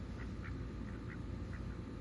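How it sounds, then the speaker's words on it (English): Ducks quack outdoors on a farm where a new baby alpaca has arrived, a few soft, fairly distant quacks spaced irregularly over a steady low background rumble. "All these ducks out here."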